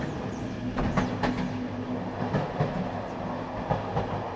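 A train runs along railway tracks, a steady rolling rumble with rhythmic clickety-clack from the wheels passing over the rail joints, heard continuously at moderate distance with no voices.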